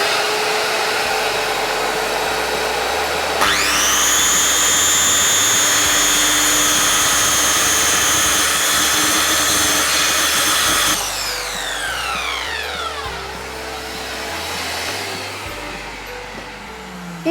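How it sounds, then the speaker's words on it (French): A workshop vacuum whines loudly and continuously, its pitch rising as it spins up, then shifting as the motor winds down and restarts under a droning hum. "J'allume l'aspirateur."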